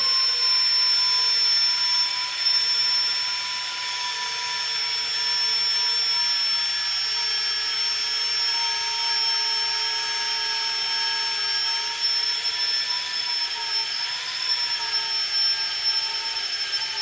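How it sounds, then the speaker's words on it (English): A drill bores a hole through aluminum on a Honda CBR1000RR for safety wire, giving a steady, sustained whine with a thin high tone that barely changes over many seconds; no one speaks. "This will drill fairly easy with aluminum."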